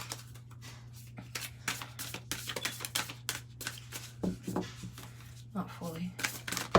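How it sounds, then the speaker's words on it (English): A deck of tarot cards is shuffled by hand in quick, irregular bursts of riffling and slapping, with a steady low hum underneath and a person talking intermittently. "I guess you guys don't have to see me shuffle."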